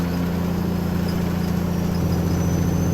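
A classic Peterbilt semi truck's heavy diesel engine idles off throttle with a steady low rumble and even throb, fairly close and uninterrupted, no talking.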